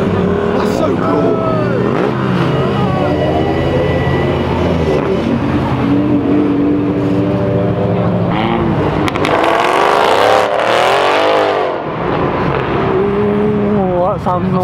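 A BMW E36 accelerating and revving hard through a road tunnel at a London tunnel run event, its loud engine echoing off the walls. Excited spectators talk over the noise and a louder pass swells near the end.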